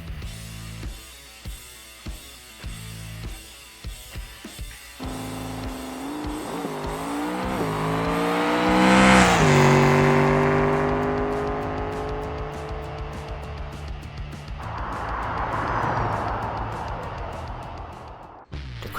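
A Barstow drag car in BeamNG makes a full-throttle run: a revving launch with tire squeal, rising engine pitch through gear changes to a loud peak, then a long fading roar and a brief skid, heard up close.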